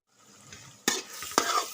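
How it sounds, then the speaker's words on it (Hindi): A spoon stirs and presses melon seeds (magaz) in a pan, giving two sharp scraping knocks over a faint sizzle. The sound is near and fairly quiet, with no one speaking. "मगज़ को ऐसे मिक्स करें, उल्टे चम्मच से इसको दबाएं"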